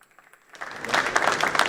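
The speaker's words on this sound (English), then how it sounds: "can we have a huge round of applause for them, please?" Applause swells from near quiet into a full, dense crowd ovation at a sustainability-themed private label food and non-food industry event, growing louder and steady in the final second.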